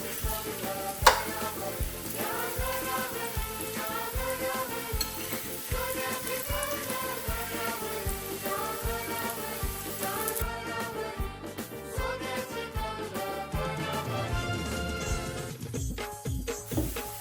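Veg bombil coated in rava shallow-fries in oil on high gas, a dense, continuous sizzle heard close with no voices. Steady music runs underneath throughout.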